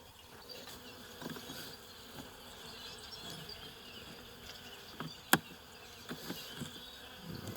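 Honey bees buzz steadily at an open hive during a colony inspection, a soft continuous drone with occasional louder individual bees passing close to the microphone.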